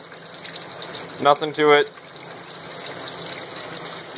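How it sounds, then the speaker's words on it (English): A parts cleaner pump draws water from a 55 gallon drum, keeping up a steady low gushing flow throughout while someone speaks briefly over it. "Nice running, flowing water."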